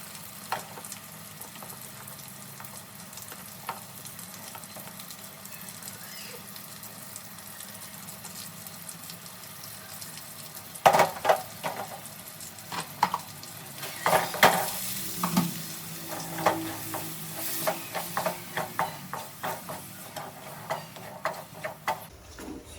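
Tomatoes and chili frying with chicken in a pan for a Punjabi-style potato chicken karahi, a steady sizzle that grows busier as stirring begins, with scraping and clattering strokes in the second half.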